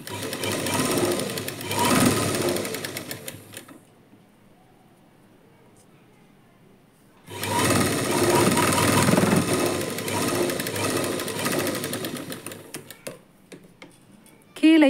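A sewing machine stitches the lining of a blouse to the main fabric, with two bursts of fast, even mechanical whirring separated by a pause. The machine is close and loud, and a brief voice is heard at the very end.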